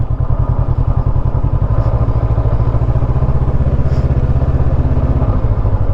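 A Honda CB500X motorcycle heads downhill in low gear on a steep forest-park road, its engine thrumming loud and close in a steady, throbbing pulse with no speech.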